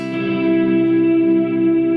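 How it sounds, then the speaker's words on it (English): Electric guitar run through a Kemper legacy reverb module at full mix with a very long decay near thirteen seconds, a sustained shimmering wash of held tones with no attack, steady and loud throughout. "this is like a legacy reverb module within the Kemper"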